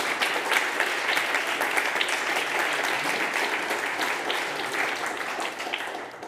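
An audience at a lumbung event applauds in honour of hosts, sustained dense clapping that stays even throughout and tapers slightly near the end.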